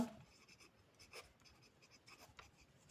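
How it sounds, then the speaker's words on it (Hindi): A sheet of paper folded one way and then back the opposite way to crease a line for a school maths exercise: soft, close crinkling and rustling with a few brief brushing bursts, faint and without talk. "कागज को विपरीत दिशा में मोड़ें।"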